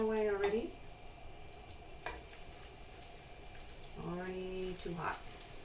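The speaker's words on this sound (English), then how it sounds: "Frying away already." Coconut shrimp frying in hot oil, a steady, even sizzle throughout, close and fairly quiet, with short bursts of speech at the start and near the end.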